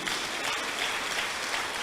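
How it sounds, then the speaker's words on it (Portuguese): A church congregation applauding strongly, dense sustained clapping from a large crowd, steady throughout the short moment with no speech. "Quem crê assim, dá um aplauso bem forte a Ele."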